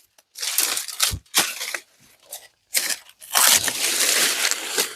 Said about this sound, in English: I'm going to use these farmers cutters because I like these.